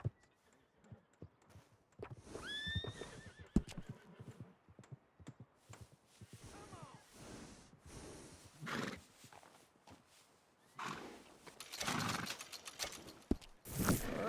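A horse in Red Dead Redemption 2 whinnies with a rising, stretched call near the start, followed by hoof clatter and bursts of game noise, all fairly close and free of talk.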